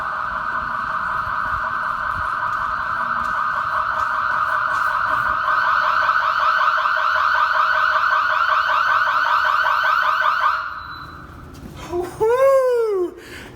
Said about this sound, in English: Alarm. This thing is so loud, I gotta turn this off.